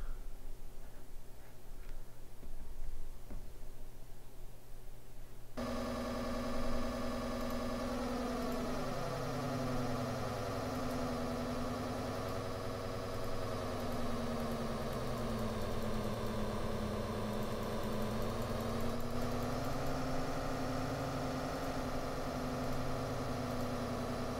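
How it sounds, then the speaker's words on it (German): Car engine in the Amiga racing game Street Rod: a steady synthesized drone with buzzing harmonic tones that starts after a few seconds of quiet background and runs on evenly and fairly loud, with no talking. "Jetzt gucken wir nochmal, wie der Motor läuft."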